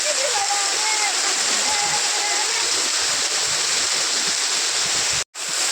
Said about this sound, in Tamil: தண்ணி எல்லாம் மேலே தெளித்து சூப்பராக இருந்தது